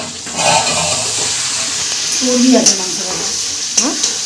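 Meat cooks in a pan at home in the evening with a continuous loud sizzle and hiss. Spatula scrapes and faint background voices or sounds come through occasionally.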